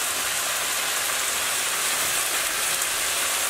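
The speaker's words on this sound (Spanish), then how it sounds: "Y aquí vamos a sofreír por un momento." Vegetables including beans sizzling in a hot pan for chicken chow mein, a steady loud hiss of frying that holds evenly throughout with no talk.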